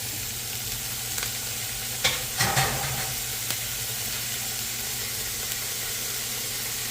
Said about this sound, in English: you're going to give that a good mix and allow it to cook in there for a bit